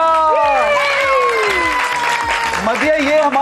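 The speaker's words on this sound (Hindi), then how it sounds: "तालियां।" An audience at an Eid celebration gives a short burst of applause and cheering, clapping close and lively beneath overlapping excited voices and shouts.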